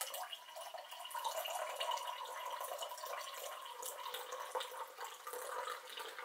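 Public House IPA beer pouring straight down into a glass, a steady soft liquid stream with faint fizzing, close and continuous throughout.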